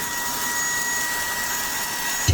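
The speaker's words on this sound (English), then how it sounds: "every now and then, I grab the vacuum," A Brigii MX30 handheld vacuum cleaner fitted with a brush nozzle runs steadily while cleaning dust off a keyboard, giving a close, constant high-pitched whine with a faint thump at the end and no voices.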